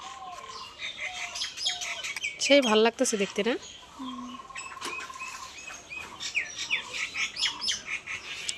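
Baby birds chirp and tweet repeatedly in a busy chorus, with a person talking over the chirping.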